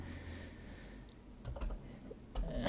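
Typing on a mechanical computer keyboard, a quiet patter of key clicks over steady background hiss, faint and close, with no talking.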